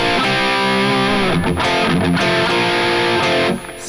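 Distorted electric guitar playing a riff slowed down, a thick crunchy run of picked notes with bends, loud and close, heard alone without talk.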